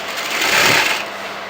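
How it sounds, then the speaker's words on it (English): Sewing machine running a quarter-inch seam joining the A-line bottom piece of a kurti, a short steady whirring burst that swells slightly in the middle, close and fairly loud with no talking. "So leaving a 1/4 inch of seam allowance, and I'm going to sew this together."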